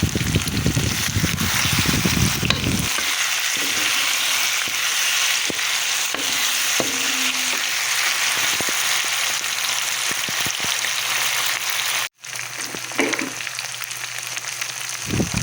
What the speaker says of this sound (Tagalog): Atin na po ngayong lalagyan ng pampalasa ang ating oyster sauce